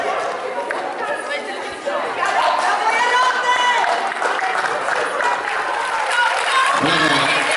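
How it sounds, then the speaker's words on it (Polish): Applause from the crowd at a youth women's U16 football award ceremony continues at a steady, moderately loud level, with chatter and voices from the crowd mixed throughout the clapping. "Brawa."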